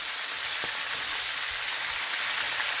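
Mackerel fries in a pan of hot oil, giving a steady, bright sizzle and crackle that holds evenly throughout without any voices.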